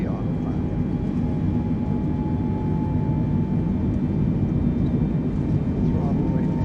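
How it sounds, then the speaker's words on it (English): Airliner jet engines roar at takeoff power in a Boeing 747-8 (Air Force One livery) lifting off in Microsoft Flight Simulator 2020, a steady broadband rumble with a faint high whine, continuous and loud throughout. "Hit rotate, we'll just gently pull back on the yoke and lift off"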